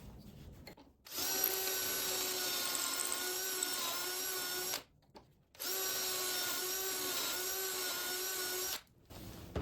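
Cordless drill boring pocket holes in a pine 1x3 board with a pocket-hole jig set to 3/4 inch, two sustained high whining runs of about four seconds each, separated by a brief pause.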